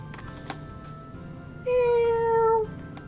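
A single clear, drawn-out video game cat meow rises above quiet background ambience.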